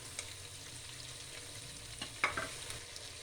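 Chicken pieces fry in a pan with ginger-garlic paste and tomato, a soft low sizzle with faint stirring and a couple of light scraping knocks near the end.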